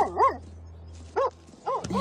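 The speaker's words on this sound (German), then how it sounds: "Ja, verschwinde, du dämlicher Hund." A dog gives a few separate barks, loud and close, with quiet pauses between them and a short gap before a final quick pair.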